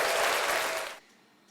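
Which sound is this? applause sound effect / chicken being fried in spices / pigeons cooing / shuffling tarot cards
applause sound effect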